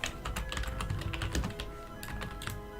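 Rapid, uneven clatter of keys being typed on a computer keyboard during a game session, close and moderately quiet, bursts of clicks with no speech.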